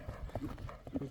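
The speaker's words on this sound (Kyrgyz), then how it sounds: "Ат жеткиздирбей кетти го." Horse hooves clop in a quick, uneven beat as a horse gallops during a traditional horse event in Özgön, with people talking over the hoofbeats.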